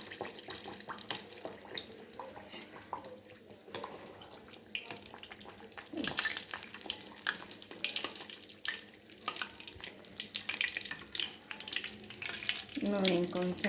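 Mangalore buns fry in hot oil, giving a steady close sizzle and bubbling with a few splashing and stirring sounds, and a speaker talks over it.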